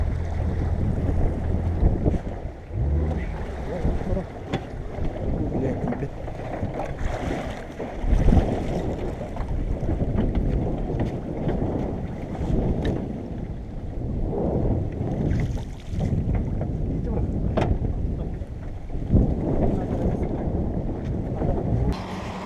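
Outboard motorboat droning steadily on open water during a goose hunt in Sakha, Yakutia, with constant wind buffeting the microphone and water noise throughout.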